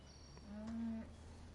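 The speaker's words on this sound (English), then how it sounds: "Happy cows." A cow in the Farming Simulator 2015 video game, on the Bjornholm farm, lets out one fairly loud, drawn-out moo from a herd out in a field.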